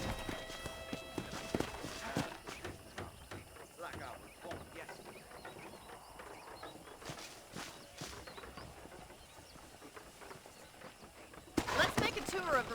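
Horse hooves clip-clop at a steady walking pace on a ranch in the video game Red Dead Redemption, moderately loud under game music and ambience, with a character talking over parts of it.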